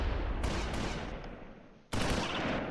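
Mortar fire in the World War II strategy game Close Combat IV: dense, rumbling bursts of blasts fill the whole stretch, with a brief dip before a fresh loud volley crashes back in.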